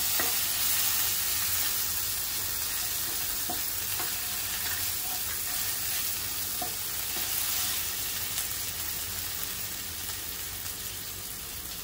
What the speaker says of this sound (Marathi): आता आलं, लसूण आणि मिरचीचा ठेचा घालायचा आहे।